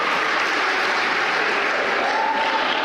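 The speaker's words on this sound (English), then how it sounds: "Round of applause." A crowd at a political rally for a Gambian party leader breaks into loud, sustained applause, dense steady clapping filling the whole stretch with no break.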